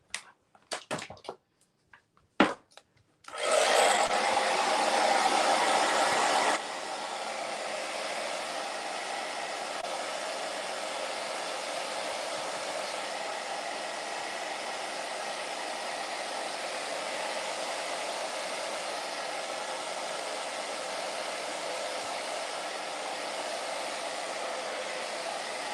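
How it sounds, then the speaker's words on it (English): A hair dryer blows on freshly painted artwork after a few clicks and handling sounds, starting loud on a high setting then dropping to a steady, softer whoosh that continues to the end. "let's give it a blow dry and then take a look at it."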